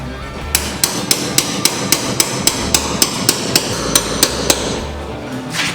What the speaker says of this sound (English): we fill this cavity with WD-40. Hammer it in, just like that.